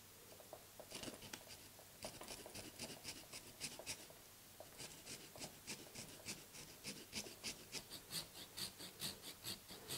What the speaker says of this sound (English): The beauty of a pull saw is that you can just take your time, hold the trunk, and you've got really good control as you cut.